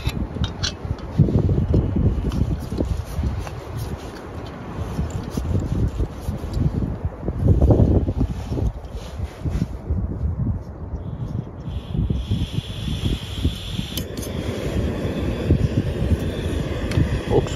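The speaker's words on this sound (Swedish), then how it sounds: "Ja, då kopplar vi gasen och sätter igång och ser hur lång tid det tar att koka." Biltema 3 kW gas camping stove burning outdoors with no windshield, a steady loud roar of flame and gusting wind buffeting the microphone throughout, with no talking.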